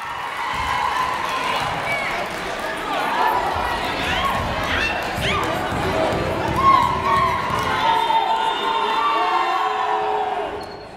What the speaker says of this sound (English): As the crowd makes itself heard, Torres pulls down the rebound.